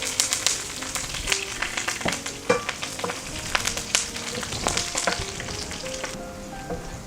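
A small piece of finely chopped ginger and four or five chopped garlic cloves fry in hot oil in a pan, giving a busy crackling sizzle with frequent sharp pops and spoon scrapes, close and continuous.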